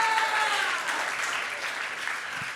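Audience at a church youth camp breaking into applause and cheering, a dense steady wash of clapping with a few high whoops at the start, fading slightly over a couple of seconds.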